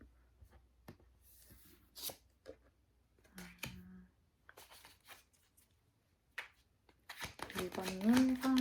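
Tarot cards are shuffled and laid down in short, soft riffling bursts and taps, quiet and close, with a voice talking near the end.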